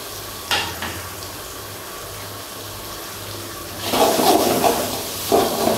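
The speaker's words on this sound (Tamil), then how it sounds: "கேரட் கேப்சிகம் வர கொஞ்சம் டைம் எடுக்கும் ஸோ நல்லா வதக்குங்க" Carrot and capsicum sauté in a pan for street-style chicken egg noodles. A low, steady hiss swells abruptly into a louder, bubbling sizzle partway through, with a short knock near the start.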